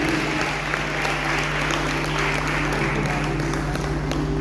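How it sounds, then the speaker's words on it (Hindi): Church congregation applauds during a sermon, a steady, even patter of many hands clapping throughout, over a constant low hum. "उस परमेश्वर को धन्यवाद दें, महिमा करें उसकी तालियों के साथ"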